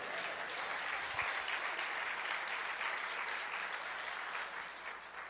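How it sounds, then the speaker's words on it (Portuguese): A church congregation applauds, a steady, even patter of many hands clapping that holds for several seconds at a moderate distance, fairly quiet overall. "Diga amém, dê um aplauso ao Senhor."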